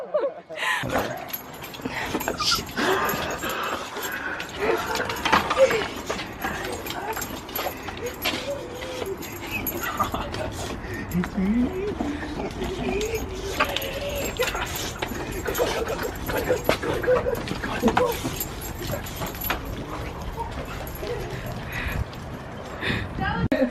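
A dog at a soldier's homecoming whimpers and yelps excitedly amid footsteps, jangling and overlapping voices of people talking.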